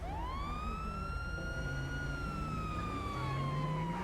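Police car siren in the video game GTA 5 with the LSPDFR mod, a loud steady wail that rises and slowly falls over four seconds above a low engine rumble, with no voices.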